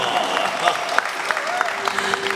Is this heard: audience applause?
yes